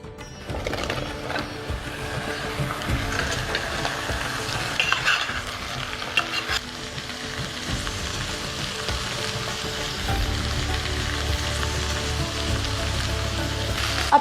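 Jackfruit pieces dropped into hot oil over high heat give a loud, busy sizzle with rattling and stirring clatter, followed by a lower, steady rumble in the final seconds.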